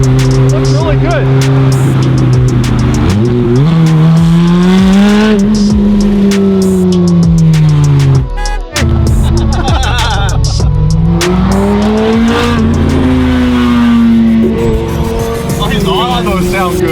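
A modified barn-find Ferrari engine revs hard and sustained, pitch sweeping up and down through repeated loud pulls with a brief drop in the middle, close and dominant with voices faintly under it.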